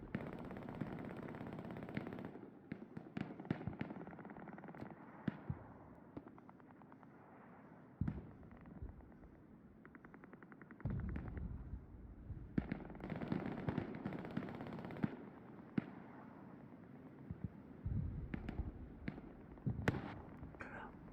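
Gunfire from the World War II shooter game Hell Let Loose, on the Yellow House map in an 18 versus 18 match: steady bursts and single shots crackle near and far, with someone talking over them.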